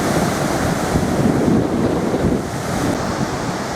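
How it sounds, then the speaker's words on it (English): Strong wind blows at the seaside in Barmouth, buffeting the microphone over the wash of surf on a pebble shore at high tide, loud and continuous with gusts rising and easing. "There's quite a wind blowing."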